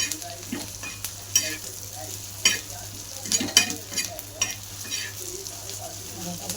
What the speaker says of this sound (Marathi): हे खोबरं पण आता या कांद्यामध्ये मी भाजायला टाकून देते आपला कांदा भाजूस भाजतोय